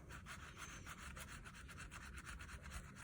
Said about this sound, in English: I'm going to use this gum eraser